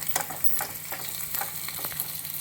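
Chopped onions and green chilies frying in oil in a pan for a Rayalaseema-style dish, a close steady sizzle broken by quick scraping stirs of a spoon, with no talking.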